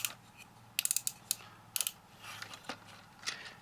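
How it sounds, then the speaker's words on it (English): Ratcheted elbow joint of a Hasbro Transformers Generations Fall of Cybertron Soundwave action figure clicking as it is bent, giving quick bursts of sharp, close plastic clicks in uneven clusters over a quiet background. "Got a very well moving ratcheted elbow."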